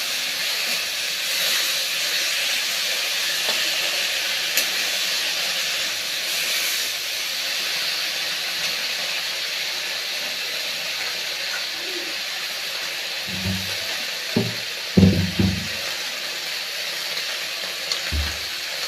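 Paneer frying lightly in a pan, giving a steady, close hiss of steam and oil throughout, with a few soft knocks and clatters near the end.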